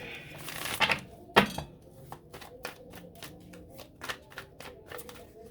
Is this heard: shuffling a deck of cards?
yes